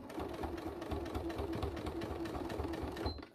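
A sewing machine stitching faux leather for a clam shell pouch, its motor whirring in a steady, rapid mechanical chatter close by for the full run, cutting off at the very end.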